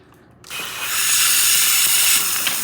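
Steady steam hissing from the steam wand of a Jura Impressa F8 coffee machine with its gasket missing, starting abruptly after a brief quiet moment and holding loud and even to the end.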